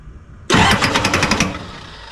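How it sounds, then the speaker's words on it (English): A 1986 Ford F350 engine suddenly catching and roaring close and loud, with a rapid rhythmic knock suggesting a bent rod before the sound settles slightly. "That sounds like a bent rod."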